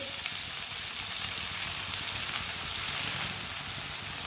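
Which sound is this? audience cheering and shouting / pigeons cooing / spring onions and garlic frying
spring onions and garlic frying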